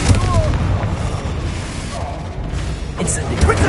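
Expulsor spell explosions in Hogwarts Legacy, deep booming blasts amid constant battle noise, loud and close, with a sharper bang near the end.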